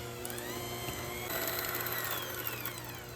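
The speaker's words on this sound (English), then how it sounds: "I'm using a hand whisk, but I think a regular whisk will work as well" An electric hand whisk mixes lemon curd and cream cheese in a bowl, giving a steady, close motor whir whose pitch wavers slightly as it works through the mixture. No voices.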